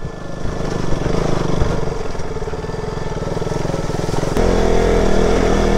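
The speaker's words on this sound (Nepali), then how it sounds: "साहसी मान्छेहरूले त बाइक लगाएर रहेछ होइन बाइकको ऊ पनि छ" Motorcycles on an off-road hill track at Chandragiri Hill give a steady, close engine drone that grows louder and heavier near the end, with no voices over it.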